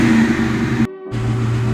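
A Ford Mustang project car's engine runs loud and close, a throaty rumble that briefly cuts out for a moment before picking back up.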